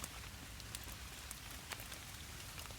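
Rain falls steadily through the woods, a dense patter with sharper drops spattering close by, soft and continuous with no talking.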